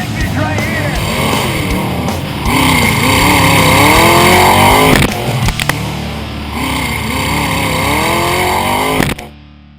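Off-road rock racing vehicles climb a massive hill at a Pro Rock Racing event, engines roaring loud and close at full throttle with revs rising and falling, cutting off abruptly near the end.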